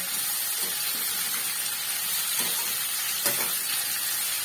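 Boiled, thinly sliced cauliflower stalks frying in a pan, a steady close hiss and sizzle throughout with a few soft stirring scrapes.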